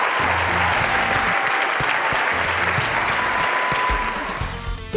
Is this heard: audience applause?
yes